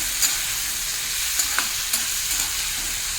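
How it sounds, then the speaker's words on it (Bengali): Fish curry with ridge gourd sizzles steadily over a high flame, broken by a few sharp scrapes and clicks of a spoon stirring the pan, with no voices. "এই সময় হাই ফ্লেমে আছে যেহেতু নাড়াতেই হবে বারবার"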